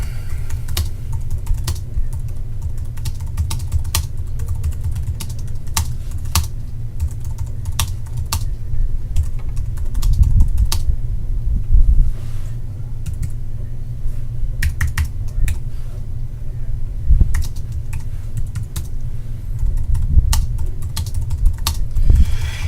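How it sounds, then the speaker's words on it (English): An email is typed on a computer keyboard, with steady, close clicking keystrokes in uneven bursts and brief pauses throughout, and no talk over it. "So all you have to do is compose a new email. You can type"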